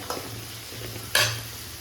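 Small onions and garlic sautéing in a pan for vatha kuzhambu give a faint, close sizzle with a brief louder stir or scrape partway through. No one speaks.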